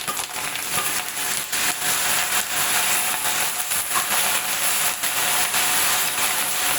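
Garlic and curry leaves sizzle in hot oil for a tadka, a steady loud hiss and crackle running without pause and with no talk over it.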